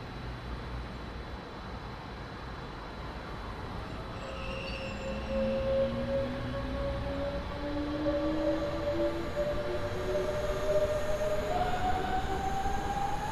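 A simulated German passenger train on the Rhein-Ruhr main line, in Train Sim World 2, rumbles steadily while rising whines and squealing tones build as it slows into a station platform.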